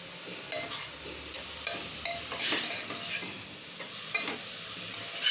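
Grated carrot stir-fried in ghee for carrot halwa, a continuous bright sizzle with regular scraping spoon strokes against the pan, close and steady, no talking.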